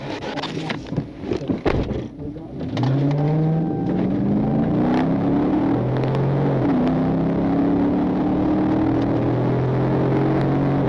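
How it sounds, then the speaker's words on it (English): A Nissan Murano accelerating hard at the start of a police chase, engine revs rising in clear pitch sweeps through successive gears, loud and close, after a few seconds of scattered bumps and thuds. "Instead, Hamilton suddenly hit the gas, and the chase was on."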